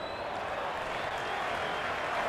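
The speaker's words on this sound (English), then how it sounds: "It's the most enthusiastic crowd you could ever see right now." Dense, steady roar of a big cricket stadium crowd at an India versus Pakistan T20 match, continuous and loud with a faint spattering of claps and no clear single voices.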